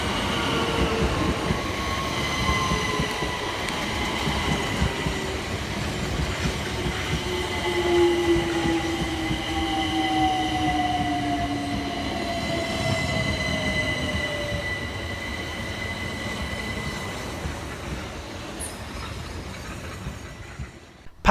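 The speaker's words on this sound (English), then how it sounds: "arriving in the opposite direction is 376001 and 376015 with the 1633 Southeastern service from London Charing Cross through to Hayes" Southeastern Class 376 electric trains 376001 and 376015 roll steadily through a station on the Hayes line, a constant rumble with a rising electric whine and faint wheel squeal running throughout, fairly close.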